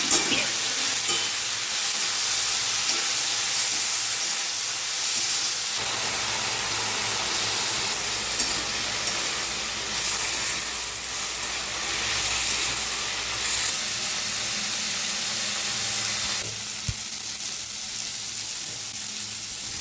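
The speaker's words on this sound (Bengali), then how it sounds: "নেড়ে নেব।" Water lily stems stirred in a pan with turmeric and salt, a continuous hissing sizzle with soft scraping strokes, fairly loud and steady with no talk.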